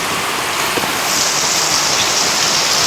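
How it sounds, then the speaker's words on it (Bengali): Heavy rain pours steadily in a storm, a loud continuous hiss of water with a gusty rise partway through. "প্রচণ্ড ঝড় হচ্ছে বাইরে ঝড় বৃষ্টি শুরু হয়েছে"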